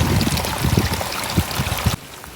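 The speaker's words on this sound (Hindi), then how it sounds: "इतना ज़्यादा पानी इधर से जा रहा है," Heavy rainwater rushes and gurgles past a village house in a downpour, a loud close churning flow with splashing bursts that cuts off abruptly to a quieter background near the end.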